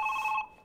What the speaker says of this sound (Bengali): দাঁড়া, ফোন এসছে।